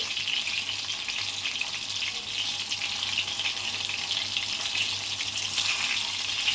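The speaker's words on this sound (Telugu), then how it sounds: "నూనె కాగిపోయిందండి, వంకాయలు అయితే వేస్తున్నాను." Eggplants fry in hot oil with a steady, close, hissing sizzle that crackles evenly throughout, with no talking over it.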